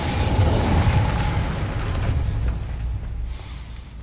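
An Incendio fire spell cast in Hogwarts Legacy, a loud whooshing, roaring burst of flame at a gate that starts strong and slowly fades over several seconds, with no talk.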